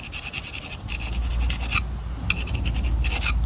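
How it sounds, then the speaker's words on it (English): A grinder rasps excess mortar off brickwork in short, harsh bursts, several passes separated by brief pauses, close and fairly loud. "Chisel it out, or just grind it off with it,"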